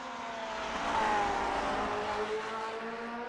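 Simulated race cars lapping the Nurburgring Nordschleife in Grand Prix Legends, a steady droning engine note with slight pitch sweeps as the cars accelerate through the section, moderately loud and continuous without talk.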